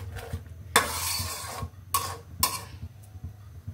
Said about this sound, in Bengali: টমেটো দিয়ে মশলার সাথে ভালো করে মিশিয়ে নিব, ভালো করে কষিয়ে নিব